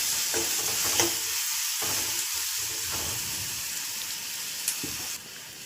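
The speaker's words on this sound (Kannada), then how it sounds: "1 ಈರುಳ್ಳಿನ ಈ ಥರ ಸಣ್ಣದಾಗಿ ಕಟ್ ಮಾಡಿಕೊಂಡು ಒಗ್ಗರಣೆಗೆ ಹಾಕ್ಕೊಳ್ಳಿ." Finely chopped onion and a cut green chili fry in a tempering of hot oil for banana flower pathrode. A steady, close sizzle plays alone, with a few sharp spatters and clinks of stirring.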